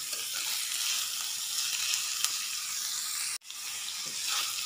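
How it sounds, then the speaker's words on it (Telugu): Ridge gourd peel frying in hot oil gives a steady, loud sizzle that runs continuously. It cuts out briefly near the end, then resumes. "దీన్ని ఒక ఆయిల్లో 1 నిమిషం పాటు మగ్గనివ్వాలి."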